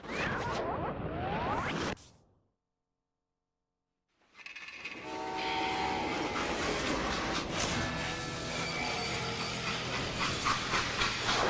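Freight train in the Western game Call of Juarez: Gunslinger, a loud steady rumble and steam hiss that cuts to silence, then returns with rattling cars and tonal screeches building over the rest.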